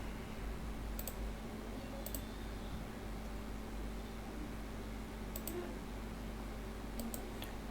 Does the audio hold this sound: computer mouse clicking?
yes